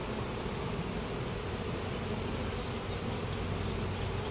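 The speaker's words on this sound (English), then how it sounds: "All these bees have nice wings." Honey bees hum from an opened hive under inspection, a faint but continuous, even buzz filling the whole stretch with no pauses or talk.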